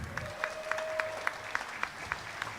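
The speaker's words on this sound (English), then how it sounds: "a big round of applause to all our officials and all of our volunteers today" Scattered applause at a regional long course swimming championships for referees and starters, with rhythmic, evenly spaced claps standing out above a reverberant pool hall and a faint steady tone.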